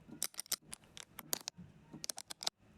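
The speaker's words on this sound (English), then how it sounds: "She like has a toy for making pom-poms or putting pom-poms on stuff. Made a bunch of these great clicking noises." A plastic pom-pom making toy clicks repeatedly in quick, irregular bursts, sharp close-up snaps in small clusters with short pauses between, no voices.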